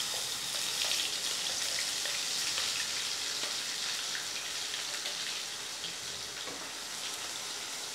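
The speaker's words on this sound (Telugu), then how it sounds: "ఆయిల్లో ఏంటంటే బాగా ఫ్రై అవ్వాలండి, మసాలా అంతా కూడా బాగా ఫ్రై చేద్దాం" Masala paste fries in oil for stuffed brinjal curry, a steady, soft, hissing sizzle that stays even and continuous throughout with no voices.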